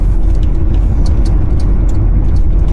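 Interior of a 1979 Mercedes-Benz W123 being driven, a loud, steady low engine and road rumble that fills the cabin, with faint higher rattles and no voices.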